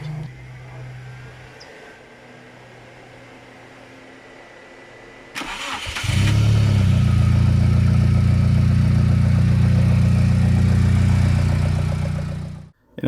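Turbocharged Honda Civic with a VTEC engine: a faint hum, then the starter cranks briefly before the engine catches and settles into a loud, steady, close idle that stops abruptly at the end.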